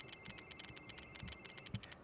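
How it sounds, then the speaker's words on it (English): A phone picked up from a bathroom in the video game Dead Ringer buzzes and chimes with a new message, a steady bright repeating ring pattern with low buzzy pulses, alone and moderately quiet. "The phone acquired from the bathroom buzzes and chimes"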